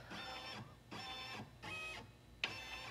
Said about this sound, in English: It's really a fascinating feature to have a scanner on your embroidery machine and take a picture of what's exactly hooped